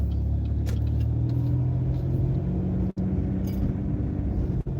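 A car with a column shifter, put into drive, pulls away from a parked spot in a neighborhood, giving a steady, close engine rumble with no talking.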